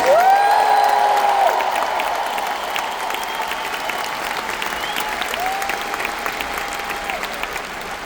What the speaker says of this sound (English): Clap your hands if you actually believe this.